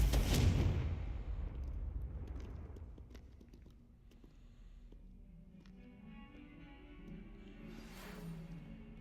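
A Confringo explosion spell cast in a video game bursts loudly at the start and decays over a couple of seconds into a quieter ambient rumble, with a softer swell near the end.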